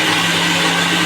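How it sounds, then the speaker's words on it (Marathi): A kitchen mixer grinder runs at a steady, loud whir with a constant motor hum throughout, heard close and alone while chicken sukka is being prepared. "तर आपण मिक्सर लावून घेऊया."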